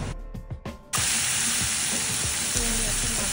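Black cumin seeds hitting hot oil: after a few quiet knocks, a sudden loud, broad sizzle bursts in and holds steady, with bubbling crackle underneath.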